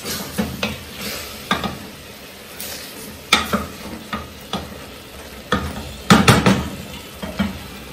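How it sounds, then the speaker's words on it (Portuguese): A spoon scrapes and stirs in a pan of chicken stroganoff after water is added, loosening the browned crust, with repeated clicking scrapes over a steady sizzle, close and fairly loud. "Mexer bem para soltar essa crostinha"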